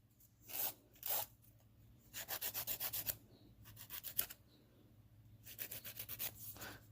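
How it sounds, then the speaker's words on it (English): An acrylic nail is filed with a 100 grit file in quick rasping bursts, some single strokes and some rapid rhythmic runs of back-and-forth scraping, close and fairly quiet between pauses. "Be careful when you're filing."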